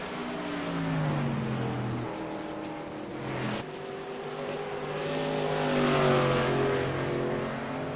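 A race car's engine revving and falling as the car spins out under too-early throttle, a steady loud drone with sweeping pitch changes and a sharp break partway through.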